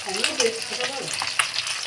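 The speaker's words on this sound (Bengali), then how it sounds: "এদিকে আমাদের তেলাপিয়া মাছ এনেছিলাম, তো একসাথে অনেকগুলো করে দিয়ে এই যে ভাজছি।" Tilapia fish fry together in a pan of hot oil, giving a steady, close hiss and crackle of sizzling with small pops scattered through it.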